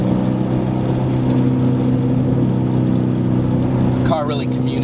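A 2011-2014 Ford Mustang GT fitted with a Borla exhaust gives a deep, steady droning rumble at close range, with a brief higher-pitched whine near the end.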